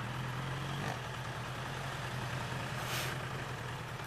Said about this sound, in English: here we have a truck delivering my yacht.